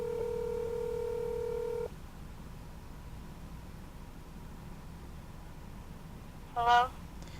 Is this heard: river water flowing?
no